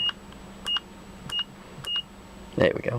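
A multimeter set to continuity mode gives three short, sharp beeps at even intervals while testing an EMF grounding product, followed by a person speaking briefly.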